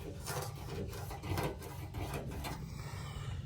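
A hand rubs over peeling clear coat on truck paint, making soft, scratchy, rasping strokes that come in a few uneven passes at close range, fairly quiet and with no talking.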